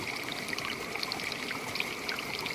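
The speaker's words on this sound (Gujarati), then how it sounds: "આપણી જો એટલું નળીમાં જાય પાણી" Water streams steadily into a pipe on a farm, a continuous trickling and pouring flow heard close and fairly even throughout, with no voices.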